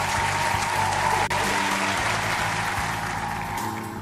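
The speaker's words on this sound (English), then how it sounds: "Give yourselves a round of applause." Steady crowd applause at a livestream gathering, a dense wash of clapping that holds loud and even for the whole stretch, easing slightly toward the end.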